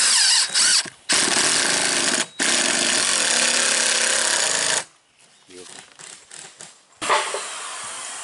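Power drill driving screws into a single-wide mobile home roof, loud sustained whirring bursts broken by short pauses, then quieter scattered handling noises before the drill starts again.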